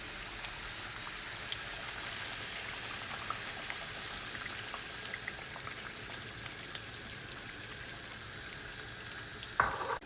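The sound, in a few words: pork carnitas frying in boiling grease and milk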